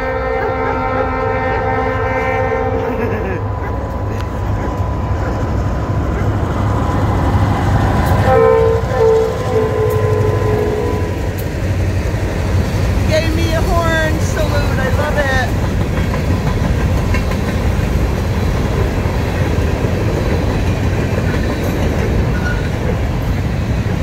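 NECR northbound freight train at a grade crossing, its horn blaring loud and near with long chord blasts, then the rumble and clatter of the passing cars continuing steadily.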